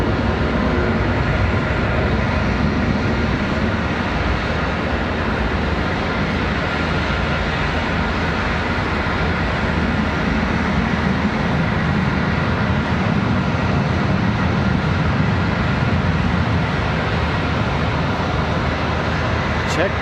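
Airliner landing at Charlotte Douglas International Airport at sunset, a steady, loud broadband engine roar sustained throughout with no break, heard alongside intermittent talk.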